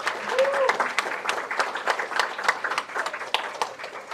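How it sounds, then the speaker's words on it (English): Steady audience applause at a live debate competition in a hall, dense clapping sustained for several seconds with a few louder claps standing out and some faint voices mixed in. "Please give them a round of applause."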